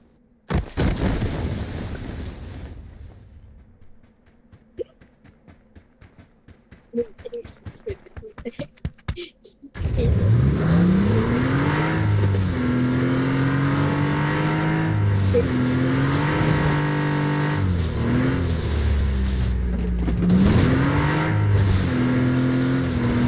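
Car driving in an online squad video game, brief rumble then quieter clicks, followed by a loud sustained engine drone with rising and falling revs and wind noise, under occasional talk.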